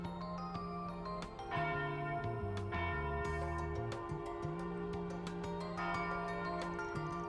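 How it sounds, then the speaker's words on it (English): Church bells ring in the Trails Beyond the Horizon game, a run of repeated bright strikes set over sustained, low musical tones and carrying through the whole stretch, with no one speaking. "And there go the church bells even."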